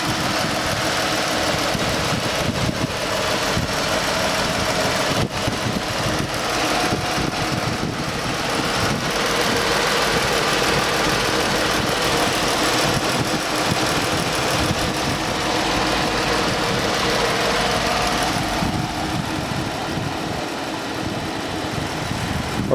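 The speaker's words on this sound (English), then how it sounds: "Let me be quiet so you can hear the engine." A 2015 Dodge Charger police car's 3.6 engine idles steadily for a long stretch, a continuous mid-pitched rumble with a faint ticking texture and no talking.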